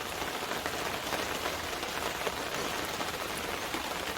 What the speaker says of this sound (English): rainy afternoon here in Middle Tennessee.